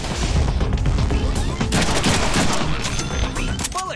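Dense, loud gunfire in the Deadpool video game, a sustained fusillade of rapid shots and booms filling the whole stretch with no pauses.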